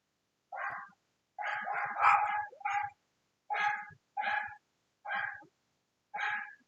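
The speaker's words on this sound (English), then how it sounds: "there's some naughty doggies outside barking and barking and barking" Several dogs bark outdoors in repeated bursts, a run of sharp barks with short gaps between clusters, moderately distant and fairly clear against a quiet background.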